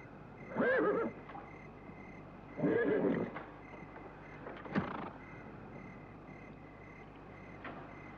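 A horse neighs twice in loud bursts, separated by a pause, with a fainter snort or whinny afterward, over a steady background hum.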